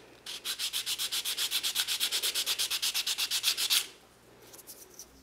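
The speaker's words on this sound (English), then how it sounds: "The shelf and brackets get sanded and glued to the frame." Hand-sanding a small oak shelf and triangular brackets, about twenty quick, even back-and-forth rasping strokes in a fast rhythm, close and clear, ending abruptly with quiet after.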